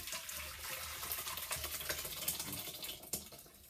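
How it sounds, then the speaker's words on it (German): Hearty Thermomix TM5 fish soup poured from the mixing bowl into a serving bowl, a steady wet splashing and trickling with small clinks, fairly close and continuous, no talk over it. "ich werde jetzt die Suppe hier in eine Schüssel umfüllen."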